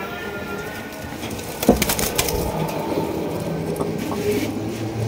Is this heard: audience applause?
no